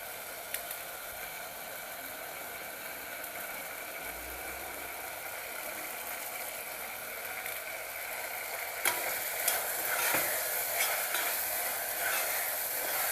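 Cumin powder and biryani masala for chicken pulao sauté in a pan with a faint, even sizzle that runs steadily throughout, slightly brighter near the end.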